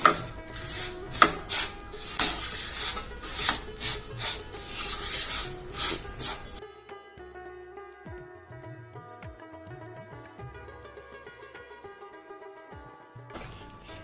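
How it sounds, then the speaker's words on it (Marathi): Plain sesame seeds roasting in a pan over a low flame, stirred with steady scraping and rasping against the metal, louder at first and then settling into a softer, quieter rustle. "हे साधे तीळ आहेत ते छान खमंग आपल्याला भाजून घ्यायचे आणि हे मंद गॅसवर भाजायचे आहेत"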